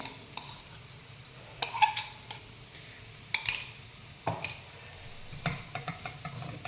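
Spoonfuls of coarsely ground spice paste being stirred into a frying pan, with intermittent scrapes and clinks of the spoon against metal over a faint sizzle, several distinct strokes close by.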